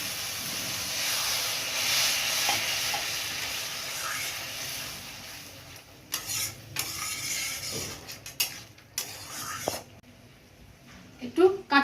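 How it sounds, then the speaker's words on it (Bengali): A prawn and potato curry with water added simmers in a pan, giving a steady, close bubbling hiss that later breaks into scattered crackles and clicks of utensils or a lid. "এবার আমি অল্প একটু জল দিয়ে ফুটিয়ে নেব"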